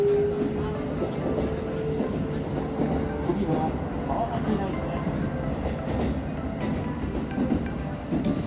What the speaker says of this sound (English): The train arrived at Kawasaki Daishi Station.